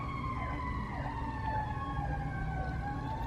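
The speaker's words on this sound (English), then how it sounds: "there's a siren going by, so it's really loud." A siren wails nearby, its tone repeatedly sweeping up and down, loud and continuous with background rumble.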